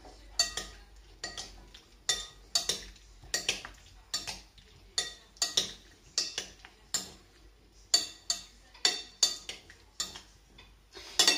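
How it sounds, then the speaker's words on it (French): A spoon stirs fruit salad in syrup in a bowl, giving a steady run of light clinks and taps against the dish, close and fairly quiet, with no talking. "Vous remuez."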